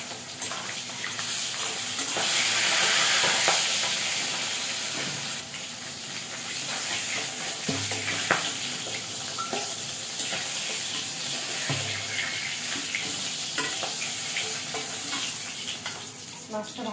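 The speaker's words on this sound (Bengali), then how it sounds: "মাছটা ভাজা হয়ে গেছে, মাছটা আমি উঠিয়ে নেবো।" Fish frying in an oil-filled pan sizzles steadily and up close, with a louder hissing swell early on and occasional clinks and scrapes of stirring throughout, no voices.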